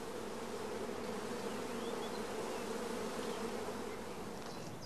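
Honeybees from a shook swarm buzzing inside a closed hive body, a dense continuous drone at steady, moderately faint level with no pauses or voices.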